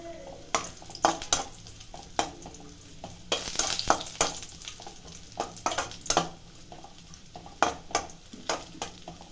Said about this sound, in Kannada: ಗೋಡಂಬಿ ಹಾಕ್ತಾಯಿದ್ದೀನಿ ತುಪ್ಪ ಕಾಯ್ದಿದೆ